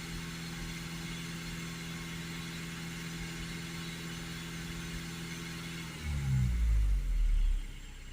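A diesel Audi A6 2.0 TDI Ultra idles with a steady low rumble close by, then briefly raises its revs for a moment before settling back toward idle.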